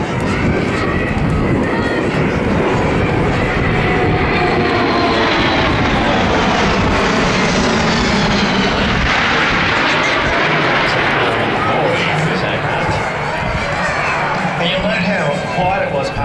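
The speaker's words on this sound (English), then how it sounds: "Great time for a photo opportunity as the aircraft comes from left to right." A Boeing C-17 military transport jet flies low past show centre at the Avalon Australian International Airshow, its engines producing a loud, continuous roar that swells and shifts as it passes left to right.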